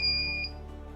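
A smart wheelchair's obstacle sensor sounds an alert: a steady high electronic beep tone with a brief second chirp, cutting off about halfway, over a low background hum.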